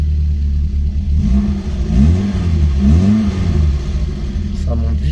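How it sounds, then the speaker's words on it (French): Volkswagen Golf GTI 1600 series 1 with a five-speed gearbox revs hard while accelerating, its engine note rising and falling through quick gear changes, loud and close. "Ça monte vite en régime."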